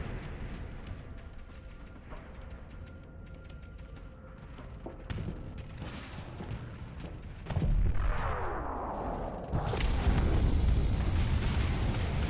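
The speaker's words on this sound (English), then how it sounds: "I just wanted to see the big explosion, I won't lie." Large explosion in the space combat game Starsector, a deep rumbling blast that swells around the middle and builds into a loud, sustained roar toward the end, with no talking.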